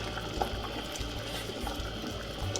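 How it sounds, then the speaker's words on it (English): Water with eggs in it boils in a pot on the stove, a faint, steady bubbling and low rumble with occasional small pops, heard without talk. "As you can see, the water is boiling."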